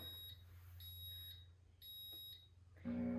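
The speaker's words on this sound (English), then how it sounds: "It's gonna beep, it's gonna start turning it." A Pampered Chef cooking blender beeps in a repeating pattern of high, thin electronic tones, faint against a low hum, before the motor starts turning with a louder whir at the end.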